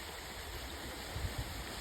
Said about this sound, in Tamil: நொர்மந்தி கடலோரம் ஒரு அழகான நீர்வீழ்ச்சி உண்டு.